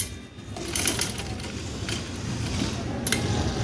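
Sewing machine stitching a 1.5-inch fabric strip onto the cut edge of a boat-neck blouse, a steady close mechanical whir with a faint ticking rhythm and no talk.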